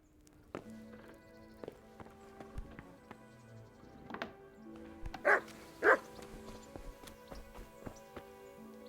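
In the video game Kingdom Come: Deliverance, a dog gives two sharp, loud barks close by, set against quiet ambient game sounds and scattered footsteps.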